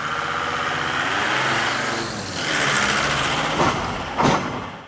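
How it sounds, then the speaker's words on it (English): Trucks roll past on a road near an abandoned Nazi bunker, a steady loud engine roar swelling and fading as each goes by, topped by a couple of sharp hissing bursts near the end. "I just gotta wait till all the trucks pass first"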